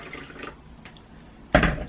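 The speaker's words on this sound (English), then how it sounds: "So now I add in my water." Hot water splashes into a coffee cup in a home kitchen, with a few soft trickles and drips first, then a sudden louder gush of pouring near the end.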